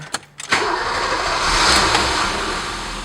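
A BMW E30's engine cranks and catches about half a second in, then settles into a steady, close idle with a broad mechanical hum, with no voices.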